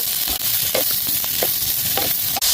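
Chopped onions frying in hot oil in a pan for an egg dish, a steady close sizzle with occasional stirring scrapes, no voices.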